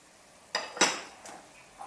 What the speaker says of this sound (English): Stir it through a bit